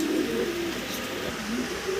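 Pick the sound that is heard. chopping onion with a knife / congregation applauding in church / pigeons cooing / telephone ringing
pigeons cooing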